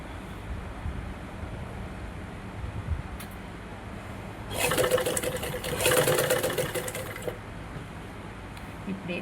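A sewing machine runs a seam down the center of a blouse neck faced with a cross piece, with a short, steady burst of rapid stitching in the middle of an otherwise quiet room.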